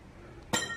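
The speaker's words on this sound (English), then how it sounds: "where the hell did that glass come from?" Glass clinks sharply at an abandoned, supposedly haunted hotel: two bright, close hits a quarter second apart following a quiet, hissy room tone.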